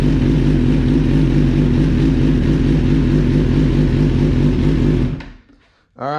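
A Suzuki GSX-R1000R sportbike fitted with a smaller, lighter battery idles with a loud, steady, close engine drone, then the engine cuts off near the end, leaving a short quiet gap before a brief rising whirr.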